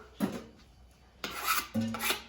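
A knife scrapes and cuts across a whole red snapper with a few rasping, gritty strokes, close up and distinct, and no voices over them.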